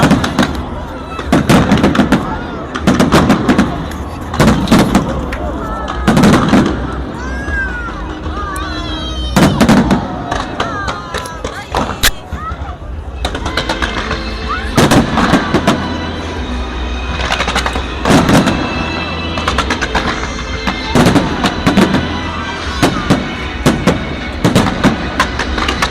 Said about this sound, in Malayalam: ഖത്തർ ഇന്റർനാഷണൽ ഫുഡ് ഫെസ്റ്റിവലിൽ അപ്പോ ഫയർ വർക്ക് വരും